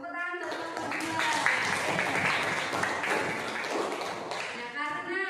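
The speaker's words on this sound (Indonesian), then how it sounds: "Tepuk tangan untuk kelompok 2." A class of students applauds a winning group after a school presentation, steady clapping from many hands filling the room for about five seconds with some voices mixed in.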